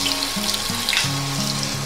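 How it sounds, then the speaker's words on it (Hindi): A piece of onion drops into masala frying until pink in a pan for a rustic mushroom curry, giving a loud steady sizzle and bubbling hiss close by, continuous throughout with no speech. "तो हम इसमें 1 टुकड़ा प्याज का डाल देंगे।"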